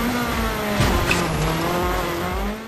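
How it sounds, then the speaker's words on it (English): A rally car engine drones loudly in EA Sports WRC with tire noise and a couple of low thuds as the car lands after a jump, with no talking. "the sound effect of the car landing after a jump should be a bit more muffled"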